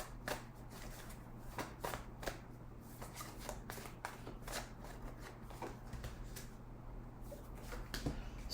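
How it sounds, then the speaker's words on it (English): Tarot cards being shuffled by hand at close range, a steady run of soft papery riffles and slaps repeating through the whole stretch over a low constant hum, with no one speaking. "why am I even shuffling those cards like that?"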